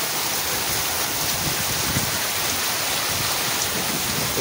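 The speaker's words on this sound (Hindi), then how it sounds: "देखो बहुत जोरे वर्षा पिटी" Heavy monsoon rain pours down steadily outdoors, a dense, loud, unbroken hiss of water that fills the whole stretch with no break and no voices.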